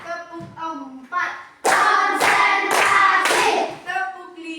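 During an ice-breaking clap game in a classroom, a group claps in sharp rhythmic bursts, several quick claps in a row between spoken instructions and call-and-response voices.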